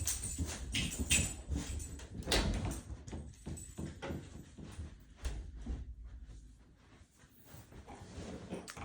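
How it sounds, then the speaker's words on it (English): An agitated pet dog indoors barks and whimpers in a string of sharp, uneven bursts, close and loud, with short quieter gaps between outbursts and no talking. "Sorry, my dog was going crazy there."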